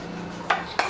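Two sharp utensil clinks against a plate as whole masoor dal with garlic flavour, dhaba style, is served, the taps spaced about a third of a second apart over a low steady hum.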